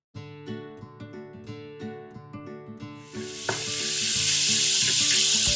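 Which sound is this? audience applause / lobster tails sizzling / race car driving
lobster tails sizzling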